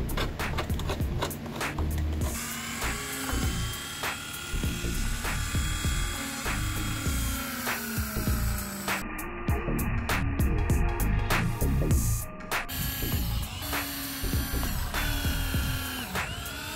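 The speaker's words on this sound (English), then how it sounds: "Then we're gonna poke a whole bunch of little holes, and that'll ensure that this is not gonna peel off." Many small holes are poked into a damaged Mercedes bumper with a small tool, giving busy close rattling and scraping with quick ratchet-like clicks over a dense mechanical background.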